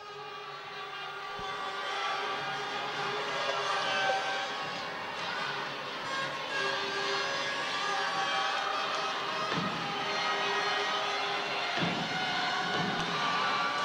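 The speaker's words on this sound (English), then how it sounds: "a big round of applause there for that shot" A crowd at a badminton semi-final of the Axiata Cup 2012 applauds and cheers a shot, a sustained moderate wash of clapping and voices from a large hall with no single standout bursts.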